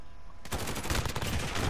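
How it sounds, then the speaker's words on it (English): Rapid bursts of gunfire fill a match in the Modern Warfare video game, starting abruptly after a quiet moment and continuing loud and dense to the end. "Who's shooting me?"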